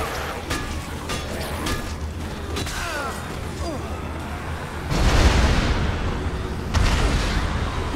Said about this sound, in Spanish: Y fijaos efectos de explosiones y demás